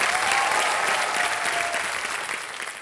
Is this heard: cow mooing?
no